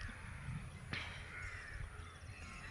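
A crow caws amid outdoor village ambience beside a canal in Kerala, with one sharp call standing out briefly against steady background noise.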